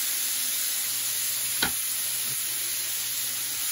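Vegetables sauté in a pan for dirty rice, sausage grease still in it, a soft steady sizzle with one sharp clack of a utensil partway through.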